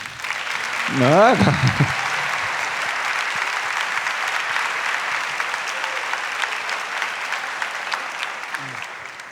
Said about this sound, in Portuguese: Vamos bater palmas para o meu cobaia aqui.